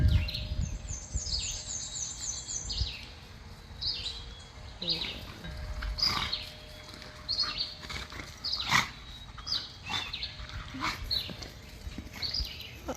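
Small birds chirp at a backyard bird feeder on a morning, short scattered tweets and calls, some close and some farther off, over quiet outdoor background with occasional soft knocks.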